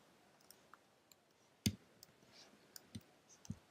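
Sharp, dry computer mouse clicks while designing a YouTube channel banner, a few isolated taps spread irregularly, close and quiet in an otherwise still room.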